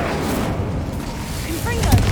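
Fire-spell blasts in Hogwarts Legacy roar in a dense, continuous rumbling burst, loud and close with heavy low-end crackle.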